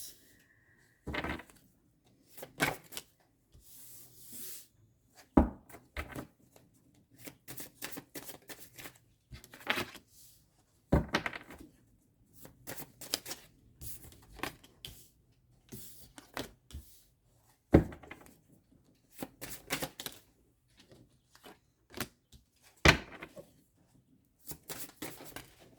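Tarot cards being shuffled and drawn for a reading, quiet close bursts of papery riffling and card slaps separated by silent gaps across the whole stretch.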